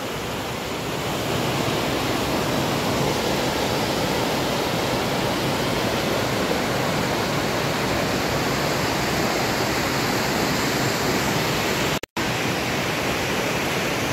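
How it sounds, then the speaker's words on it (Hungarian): A small stream pours as a waterfall into a larger stream in the Békás Gorge, giving a loud, steady, close-up rush of water that fills the whole stretch, with only a split-second break near the end. "átjöttünk ezen a kis patakon, ami vízesés formájába érkezik be a nagyobb"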